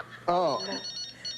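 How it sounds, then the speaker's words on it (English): A telephone rings in a room, a brief ring heard alongside a man's short exclamation and background chatter. "Dude, you got a phone ringing."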